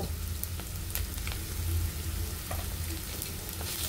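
Shrimp and spices sautéing in a pan make a continuous close sizzle, with scattered sharp pops and light spatula scrapes over a low hum.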